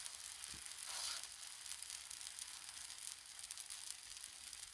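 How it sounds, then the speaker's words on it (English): Grilled cheese sizzles steadily on a hot griddle, a faint, even hiss of frying with no voices and no pauses. "we're grilling some cheese"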